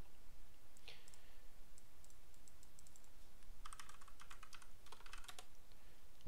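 Typing on a computer keyboard, quiet clusters of quick key clicks in short bursts separated by pauses, close and alone with no talking.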